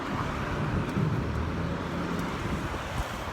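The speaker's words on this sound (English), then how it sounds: "I'm out in traffic flow and I don't know if the sound's gonna mess up or whatever." Steady outdoor road traffic with passing cars makes a continuous dense roar and rumble, mixed with gusty wind buffeting the microphone, and no voices.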